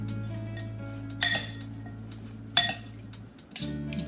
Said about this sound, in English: I'm going to get a fork and spoon, and I'm just going to kind of toss that really well to coat.